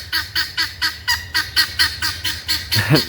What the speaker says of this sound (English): I still do hope that the guineas stop interrupting my videos